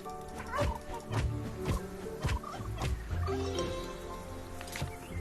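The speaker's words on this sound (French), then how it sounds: "La dinde de Noël, là." A turkey in the video game PixARK makes gobbling, clucking calls with sharp hits and game effects, fairly close and continuous, without talk.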